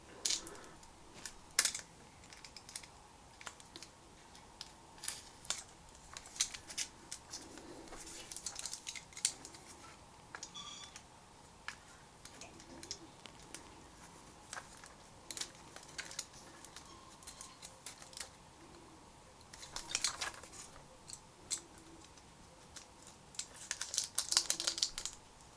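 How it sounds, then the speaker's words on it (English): A TDK MD80 MiniDisc colour 5-pack is unpacked up close: sharp snips, crinkly plastic film and small clicks and taps come in irregular bursts, quiet and sparse between louder rustles near the end. "you've got to be careful when you're unpacking it that you're not destroying the inner packaging as well"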